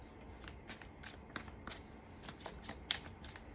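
Tarot cards shuffled by hand in steady riffling bursts, soft and close, with a brief sharper snap of card edges near the end and no talking.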